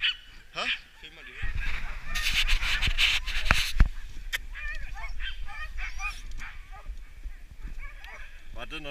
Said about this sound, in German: Film mal die Hunde